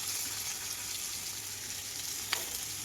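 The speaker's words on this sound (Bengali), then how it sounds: "এবারে দিয়ে দিচ্ছি পেঁয়াজটা, বীজখানে দিয়ে দিলাম, একটু ভাজার পরে তারপরে ভালো করে মিক্স করে দেবো।" Onion, green chili and kalonji frying in hot oil give a steady, fairly faint sizzle that runs unbroken, with one brief sharper crackle partway through and no talking.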